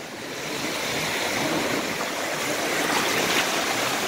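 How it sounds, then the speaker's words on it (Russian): Sea waves washing ashore at Kite Beach in Dubai, stirred up by a passing yacht, a steady broadband rush of surf that builds slightly and holds at a fairly loud, close level with no voices. "и вот какие волны"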